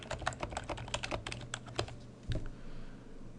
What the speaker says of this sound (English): I'll go ahead and type some text.